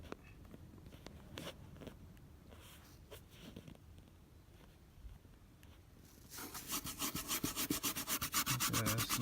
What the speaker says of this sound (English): now I'm just gonna take the toothbrush again